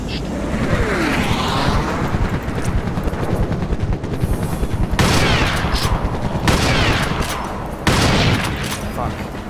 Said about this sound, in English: All I did was shoot him in the back.